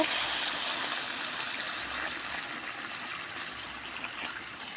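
Water poured into a pan of sautéed cauliflower and potato, a steady close splashing pour with no talking.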